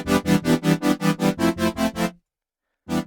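A rhythmic electronic beat of quick, evenly spaced tonal pulses stops abruptly into silence, then starts again.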